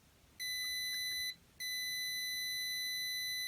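An ultrasonic sensor alarm's buzzer emits a shrill electronic tone, one short beep followed after a brief gap by a longer sustained one, clear and close.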